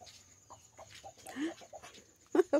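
Chickens clucking on a small countryside farm, a few short scattered clucks with one louder burst near the end, close by and fairly quiet.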